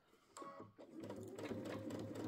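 Sewing machine running steadily as it stitches a wristlet at an angle, a close, continuous mechanical whir that starts briefly, pauses, then runs on without stopping.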